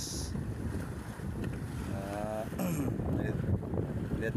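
Steady wind noise rushes across the microphone near open water, a constant broadband roar with faint engine-like hum beneath.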